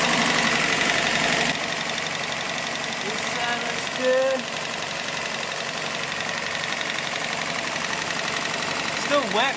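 The 22RE engine of a 1984 Toyota Celica GTS RA65 runs steadily while warming up after a valve cover gasket replacement, a constant rough idle with a faint knock, heard at a moderate distance with some brief voices.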